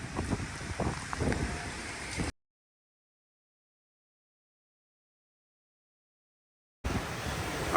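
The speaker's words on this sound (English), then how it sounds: "Got some gusts coming through" Hurricane Francine's gusts roar as a broad, steady rush of wind over the microphone, then cut to total silence for several seconds before the loud wind noise returns.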